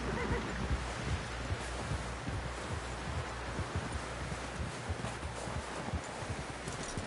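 A horse neighs and its hooves clop in Red Dead Redemption 2, set against a steady, dense wash of rustling or rain-like noise that stays fairly loud throughout.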